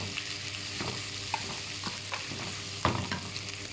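Garlic fries in a pan with a continuous crackling sizzle, broken by several soft scraping knocks of stirring, one sharper near the end; no one speaks.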